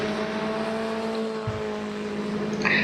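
A historic Formula Ford race car at Brands Hatch drones steadily as it pulls away, its engine note holding fairly even before a brief rise near the end, with no voices.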